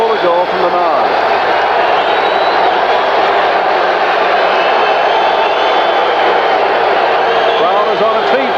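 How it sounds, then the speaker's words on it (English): Stadium crowd roaring steadily throughout at a 1984 USFL football game between the San Antonio Gunslingers and Houston Gamblers, a loud continuous wash of cheering under a play-by-play announcer's voice. "Crowd is on its feet."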